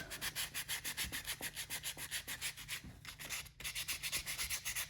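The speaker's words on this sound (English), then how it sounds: "And then you can come back with the sandpaper and smooth things out" Sandpaper rubbing over a carved wooden drake pintail duck body, a quick, even back-and-forth rasp of regular strokes, close and fairly quiet, with one short pause near the end.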